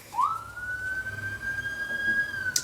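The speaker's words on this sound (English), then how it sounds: "yes, I did jump when the siren went off." A single siren wail rises quickly and holds a steady high tone for about two seconds before cutting off, heard indoors at moderate distance over faint background noise.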